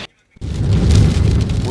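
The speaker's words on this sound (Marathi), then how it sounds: "अगदी वादळी वाऱ्यासह जोरदार पाऊस हा रत्नागिरी जिल्ह्यात झालेला आहे।" Heavy rain driven by stormy wind in Lanja, Ratnagiri district, Maharashtra, bursts in after a brief silence and continues as a loud, dense, steady roar.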